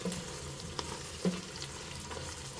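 Onions for dopiaza fry in a pan, turning yellow, giving a soft, steady sizzle with a couple of faint stirring clinks, quiet and close, no talking.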